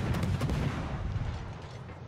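A naval gun salvo ripple-fired by a warship in World of Warships, a quick run of heavy booming shots that blur together, then a rumbling tail that fades slowly.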